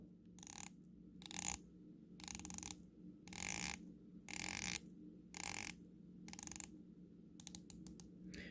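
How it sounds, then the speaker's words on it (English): The bezel of a Melbourne Watch Co Sorrento watch ratchets in repeated bursts of crisp clicks as it turns, close and quiet, with a rapid run of clicks at the end. "So I'm going to let you listen to a very pleasant audible bezel action here"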